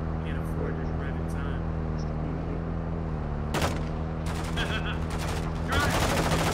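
Gunfire in the Warzone 2.0 video game, a few bursts of sharp shots over a continuous vehicle engine drone, with players talking over the action.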